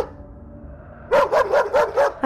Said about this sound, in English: the couple heard Baxter barking loudly